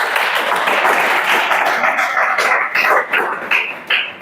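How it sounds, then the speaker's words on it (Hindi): A class of students claps together in a dense, loud burst of applause that stays steady for a few seconds, then breaks into scattered, uneven claps toward the end. "चला ताली बजाओ।"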